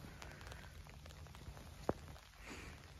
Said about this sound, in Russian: Дождик, смотри, какой начался.